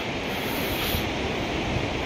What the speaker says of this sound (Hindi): ये आप शोर देख रहे हैं कितना तेज़ शोर है भागीरथी नदी का बहुत ही ज़्यादा शोर है